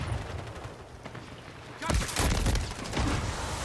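Call of Duty gunfire starts quietly with faint distant pops, then bursts into loud, rapid close-range volleys in two heavy waves toward the end.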